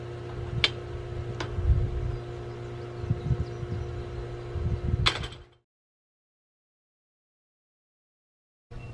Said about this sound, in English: An example of a self-closing gate.